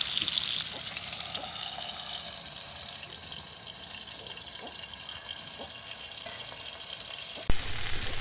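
Pieces of food fry in oil in a pan for a mutton biryani dish, giving a steady, close sizzle that runs throughout. Faint clinks are heard now and then, and there is a sharp knock near the end.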